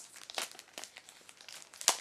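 A translucent recyclable plastic pouch being peeled open, giving a close run of crisp crinkles and rustles with a sharper crackle near the end.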